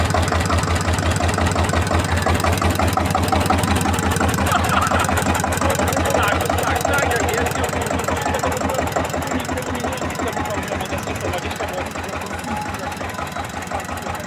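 Car engine idling close by, a steady rapid rhythmic chugging that holds even and loud throughout, easing slightly toward the end, with no talking.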